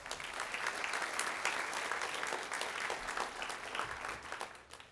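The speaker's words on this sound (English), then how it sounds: "Please give them a round of applause." Steady applause from an audience at a winter sports banquet, a sustained clapping texture at even loudness for the whole stretch with no voices over it.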